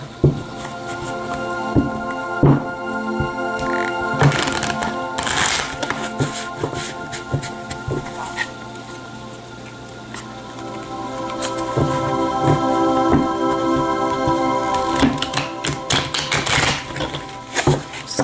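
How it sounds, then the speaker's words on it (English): Tarot cards being shuffled, a close series of crisp riffling and tapping bursts repeating through the stretch, with no talk over them. "I'm going to go ahead and shuffle one more time"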